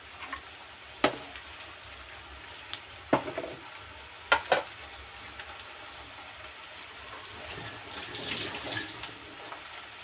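Bitter gourd pieces and green chilies hit a hot pan with a few sharp sizzling bursts, followed by a lower, steady frying hiss and occasional clinks, with no talk.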